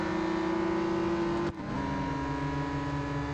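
A maxed-out car in the Real Racing 3 game holds a steady high engine drone, then dips briefly with a gear shift midway before settling back into an even whine, loud and close with no voices.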